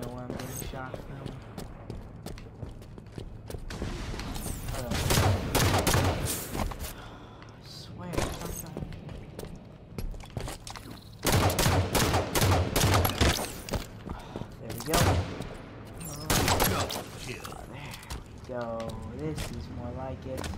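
Gunfire in a Halo 5: Guardians Arena multiplayer match comes in repeated bursts of rapid shots and impacts. A player talks over it throughout, and the shots sit at moderate loudness beneath the voice.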